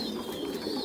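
Breeding pairs of pigeons in a loft cooing, low soft throaty calls overlapping continuously at close range.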